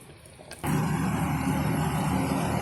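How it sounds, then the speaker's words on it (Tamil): Cashew nuts drop into hot ghee in a pan and set off a sudden, steady sizzle that fills the rest of the moment, close and fairly loud after a quiet start. "இந்த ஸ்டேஜில் நம்ம நெய்யில் முந்திரி பருப்பு வேக வச்சிடலாம்."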